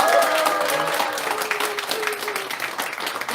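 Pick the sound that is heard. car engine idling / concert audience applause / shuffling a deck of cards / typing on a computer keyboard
concert audience applause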